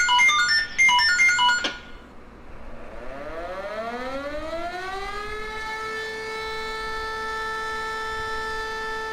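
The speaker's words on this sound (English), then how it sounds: "I can come over here and I can turn this little siren on." Fire station siren in Farming Simulator 22, switched on after a brief burst of electronic chimes and then winding up into a loud, steady wailing tone that holds alone to the end.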